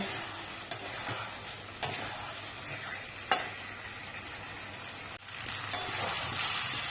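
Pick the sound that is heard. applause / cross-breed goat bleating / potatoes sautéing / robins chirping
potatoes sautéing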